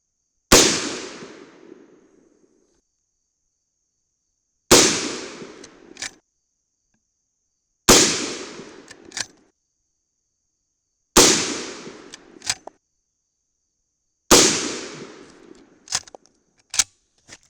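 A Henry Big Boy .357 Magnum lever-action rifle firing 140 grain Hornady XTP loads, five loud, sharp shots spaced a few seconds apart, each with a short decaying echo and lever-action clicks between them.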